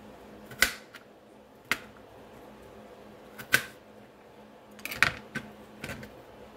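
A kitchen knife chops a chunk of garlic on a board in a few sharp, isolated taps, spaced unevenly with short pauses between, close and fairly quiet.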